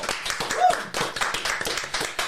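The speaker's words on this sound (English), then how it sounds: "Round of applause for Julie Nimmo." A studio audience claps and applauds steadily for a guest on a comedy chat show, dense clapping throughout with a few brief voices mixed in.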